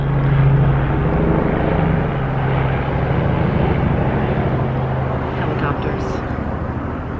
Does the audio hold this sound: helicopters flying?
yes